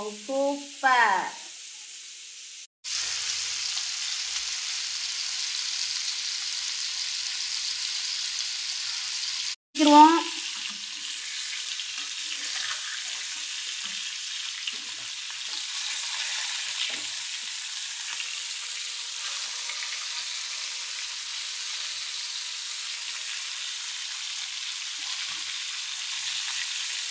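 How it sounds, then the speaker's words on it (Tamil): Pot of ponnam parai fish curry with drumsticks at a full boil, a steady bubbling hiss throughout, broken by a couple of brief clatters and a voice early on. "குழம்பு கொதித்து விட்டது"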